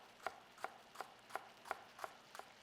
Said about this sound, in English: get some thinly sliced white onion